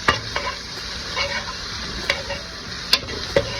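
Green pepper and onion sautéing in melted garlic butter in a pan, with a close steady sizzle punctuated by sharp utensil clicks and scrapes as the vegetables are stirred.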